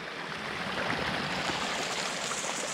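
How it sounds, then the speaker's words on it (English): A creek flows with a steady, broad rushing of water, close and constant for the whole stretch, with no voices. "we've got to hop the creek right here to get to the other side."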